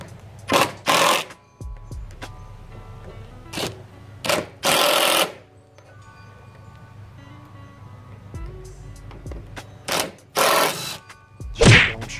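A power drill drives screws into a wood cutout in several short whirring bursts separated by pauses, close and loud against a quiet background with no speech.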